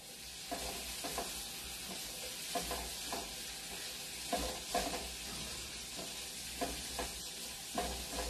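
Chopped garlic sizzling in rendered guanciale fat in a pan, a soft steady frying hiss broken by regular scraping stirs, close but quiet.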